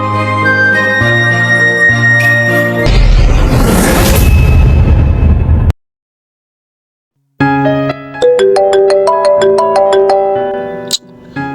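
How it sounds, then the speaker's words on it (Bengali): A phone ringtone rings out loudly in a musical burst, with a pause of silence before a repeating bright melodic pattern resumes; no one talks. "কে ফোন দিল এই সময়?"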